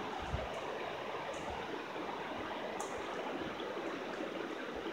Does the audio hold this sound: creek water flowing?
yes